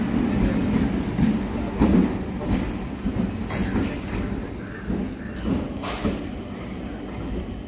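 A KSR Bangalore–Dharmavaram MEMU train departs with a steady rumble of rolling coaches, wheel clatter and occasional brief high squeals, heard nearby and fairly loud throughout.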